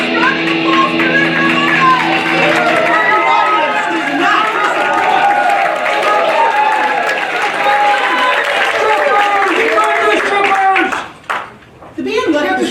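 Audience applause and cheering for a band after a stage performance, a dense crowd roar of clapping and voices that runs steadily, then breaks off abruptly near the end.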